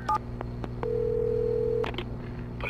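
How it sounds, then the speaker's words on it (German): Telephone dialing in the video game Alan Wake: a few short keypad tones, then a long steady ringing tone lasting about a second, followed by brief clicks and another tone, with no talk. "wir finden jetzt hier unser Telefon und dann rufen wir auch einfach mal an"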